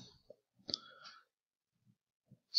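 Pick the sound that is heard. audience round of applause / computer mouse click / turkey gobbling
computer mouse click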